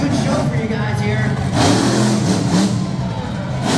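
A monster truck engine revs at a show in Middletown, NY, a loud, close, throaty roar that swells and falls several times, with a crowd and an announcer's voice mixed in underneath.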